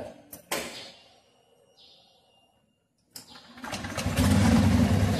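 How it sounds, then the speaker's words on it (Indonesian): An automatic CVT motorcycle is kick-started: a few sharp mechanical clicks and a short rattle, a quiet pause, then the engine catches and builds into a loud, rough running roar close by. "mulai dari kickstarter dulu ya, sebelum kita hidupkan"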